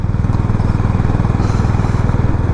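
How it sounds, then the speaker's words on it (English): A Honda CB350 motorcycle engine thumps at a steady idle, its rapid even pulses loud and close, with no voices. "such a sweet motorcycle"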